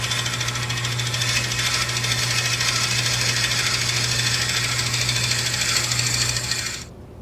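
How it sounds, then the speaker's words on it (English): A wood lathe turns at about 500 RPM while boring a 1 inch deep hole for a toothpick dispenser, a steady close hum with a constant cutting hiss that stops abruptly near the end, leaving near silence. "I've already slowed the lathe down to about 500 RPMs."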